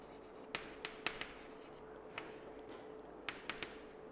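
A pen writes an English grammar sentence by hand, giving soft scratches and light taps in short clusters over a faint steady hum, with no talk.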